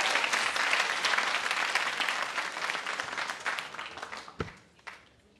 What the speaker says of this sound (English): I want you to clap very loudly for them.